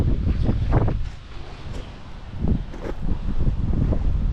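Wind gusting outdoors beside a heavy gate being fitted with latch hardware, with low, rumbling buffeting that swells and eases in uneven waves and hits the microphone up close.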